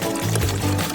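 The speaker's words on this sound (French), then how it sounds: "Nous allons remplir des bonbons Skittles avec cette eau." Water poured into a container to fill Skittles candies, a short steady pouring and filling sound with a low liquid burble, brief and close.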